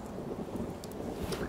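Steady rain with a low thunder rumble in a Turkish drama scene, an even, moderately faint wash of storm noise with no talking.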